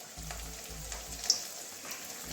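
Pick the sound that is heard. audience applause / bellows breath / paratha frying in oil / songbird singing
paratha frying in oil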